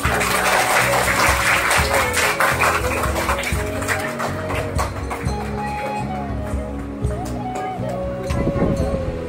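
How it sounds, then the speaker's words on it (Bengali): Schoolchildren at a Teacher's Day celebration clap loudly, sustained applause filling the room with a dense patter. A voice and a steady low hum sit underneath the clapping. "শিক্ষার্থীরা একটা জোরে হাততালি দাও"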